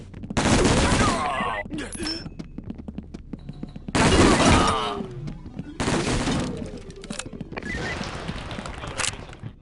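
Loud bursts of gunfire from the tactical shooter SWAT 4 come in several dense volleys of rapid shots, separated by brief pauses, with radio-style voice chatter partly overlapping.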